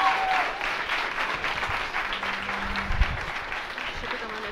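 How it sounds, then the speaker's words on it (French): An audience at a psychology event claps in a steady round of applause, moderately loud, with some faint talking mixed in toward the end. "On peut les applaudir."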